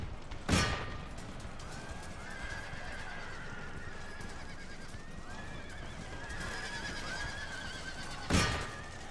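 Cavalry horses in an Empire Total War battle neigh loudly in two sharp whinnies at the start and end, over a constant backdrop of distant battle noise and hoofbeats.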